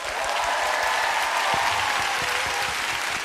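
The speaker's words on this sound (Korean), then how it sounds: "박수로 맞아주세요." Audience applause filling a Korean indoor event hall, dense steady clapping from a large crowd at close, even loudness for the whole stretch.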